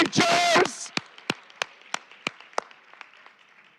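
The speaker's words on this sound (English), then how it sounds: "Let's get another round of applause for our teachers" An audience at an elementary school board of education meeting claps for teachers, a brief loud burst that thins into a few scattered, fading claps.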